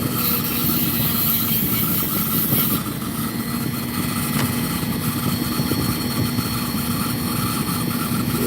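A saw cuts across a piece of opal-bearing rock with sand running all through it, a steady grinding drone with a constant tone running under it, close and loud, no talk.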